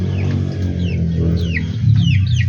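Several caged chickens cluck and chatter loudly and close by, with overlapping calls and a few rising squawks throughout.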